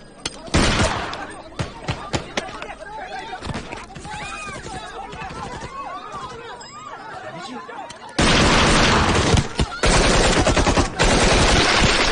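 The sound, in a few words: gunshots being fired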